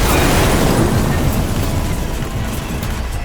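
A bus bursts into a loud explosion after a fuel leak, a broad, heavy roar that fills the whole moment and rumbles on without fading, dense and close with no voices.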